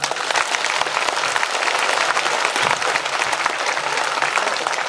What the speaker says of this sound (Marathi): ज्याला ज्याला पोवाडा आवडला त्याने हात वर करून टाळ्या वाजवा